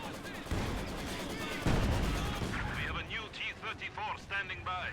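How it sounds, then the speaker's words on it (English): In a Company of Heroes 2 match, a ZiS gun barrage and gunfire rumble with heavy booms and crackling shots while someone talks over the battle din throughout. "Another Zis barrage does get some good hits on top of that Panzer Grenadier"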